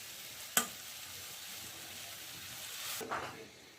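Rohu fish pieces are dropped into hot oil spiced with chili powder, two sharp splashing bursts over a steady, close sizzle with no voices.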